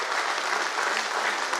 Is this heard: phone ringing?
no